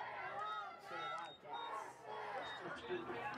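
High school football crowd cheering and shouting in the stands, with loud swelling waves of voices rolling in and out and stretched yelled tones.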